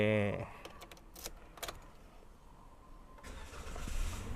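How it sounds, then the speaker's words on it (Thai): A brief voice, then a few clicks like keys turning, before the 1.5-litre petrol engine of a 2019 Toyota Avanza catches and runs with a low hum. "ลองมาสตาร์ทรถดูนะครับผม"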